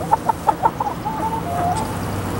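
Backyard chickens cluck in a quick series of short rhythmic clucks, followed by a longer drawn-out cackle. The birds sound close and fairly loud.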